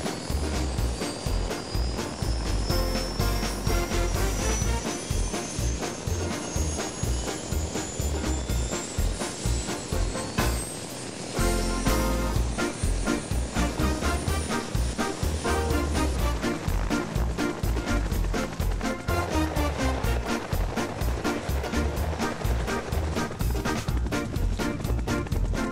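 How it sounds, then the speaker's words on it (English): Loud, continuous noise of large helicopters, including a UH-1, starting their engines, with a rising turbine whine and thumping rotor rhythm, filling the whole stretch without pause. "Now let's watch these big helicopters start their engines and take off."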